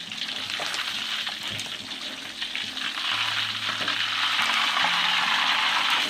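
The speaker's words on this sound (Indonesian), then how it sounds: "ini kita goreng hingga dia matang" Gourami fish fries in hot oil, a dense, steady sizzle and crackle with a few soft clinks of a utensil, close and continuous, no speech.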